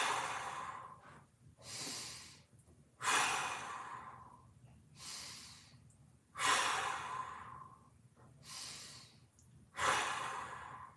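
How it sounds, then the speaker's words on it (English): Deep, drawn-out breaths during a mobility stretch with one arm overhead, six slow airy inhale-exhale cycles in a steady rhythm, close and fairly loud with no talking. "We got 5 big breaths here."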